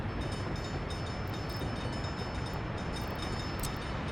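A steady, loud rumble of a train rolling past in the city-building game Workers and Resources, with continuous wheel and carriage noise from start to end and no talking.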